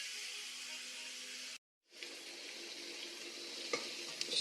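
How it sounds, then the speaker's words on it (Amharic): Onion and garlic frying in a small amount of oil in a pan, giving a steady close hiss that cuts out briefly and then resumes with faint stirring clicks. "ሽንኩርቱን ያው እየጠበስኩት ነው። ነጭ ሽንኩርት ጨምሬያለሁ።"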